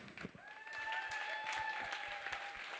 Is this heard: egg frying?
no